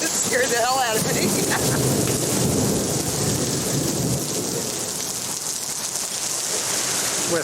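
Heavy rain roars steadily in a tornado-warned thunderstorm with rumbling thunder underneath, loud and continuous, while wind buffets the microphone.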